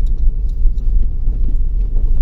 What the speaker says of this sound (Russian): Завел я машинку